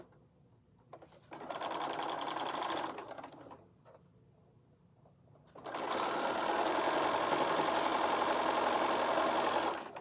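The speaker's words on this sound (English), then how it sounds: "I'm going to take this and fold it over just like we did last time, and I'm going to run that through the machine." A sewing machine runs fabric through in two stretches, a steady mechanical whirr of rapid stitching that starts, stops briefly, then resumes louder and longer, close up with no voices.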